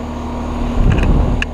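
A 2018 Carrier Comfort Series 3.5-ton heat pump with an LG scroll compressor starts up in cool mode, a steady mechanical hum that swells into a louder rumbling whoosh partway through, with faint chirps over it.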